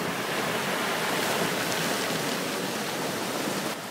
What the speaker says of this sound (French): je vous mets quelques secondes du bruit des vagues